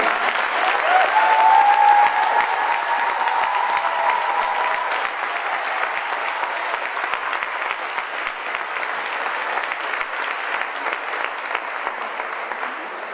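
Sustained warm applause from an audience at the official opening of a women's rights event in France, steady and fairly loud throughout, with a faint voice briefly audible near the start.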